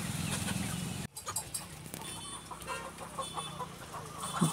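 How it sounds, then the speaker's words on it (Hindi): Live desi chickens at a chicken shop, with clucks and fowl calls scattered across the clip at moderate distance over a busy shop background, after an opening burst of steady noise. "तो ये रहा चिकन सेंटर, यहाँ पे है ब्रॉयलर और उसके साइड में है देसी मुर्गी"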